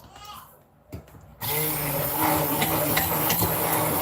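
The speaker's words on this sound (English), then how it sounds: "Every time I use this immersion blender" An immersion blender starts abruptly after a few quiet knocks and whirs loud and close, running steadily while blending a mixture with apple cider vinegar in a home kitchen.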